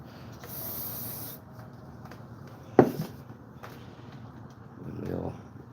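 A quick spray from an aerosol can during a chainsaw restoration, one short hissing burst near the start followed by a sharp knock and faint handling noises, with a softer hiss near the end.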